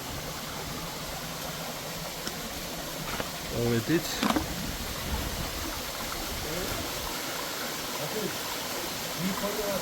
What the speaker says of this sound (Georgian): ესეც პირველი ჩანჩქერი.